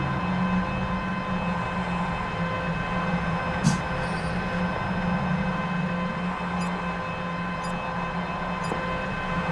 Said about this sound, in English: The train is leaving the station now.